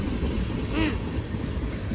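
A BNSF freight train hauling empty grain cars rumbles by in Mulvane, Kansas, a continuous close roar of rolling cars with a brief squeal of wheels partway through.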